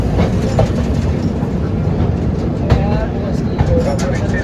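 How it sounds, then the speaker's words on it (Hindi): Express train 14865 from Varanasi to Jodhpur pulls out of Phulera Junction, heard from on board as a loud, continuous rumble with rhythmic wheel clatter that rises and falls throughout. "फुलेरा जंक्शन से ट्रेन निकल गई है, हार्डली 2 मिनट के लिए रुकी थी।"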